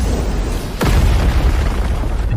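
A deep, forceful boom bursts once from a compressed spiritual-energy martial technique behind a mountain, a sharp loud blast followed by a sustained rumbling roar that fills the rest of the moment.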